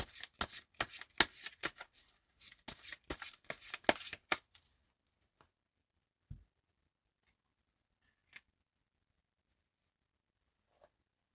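Tarot cards are shuffled in a quick run of close, crisp riffles and slaps for about four seconds. After that come a few faint, isolated taps and slides as cards are drawn and laid down in near silence.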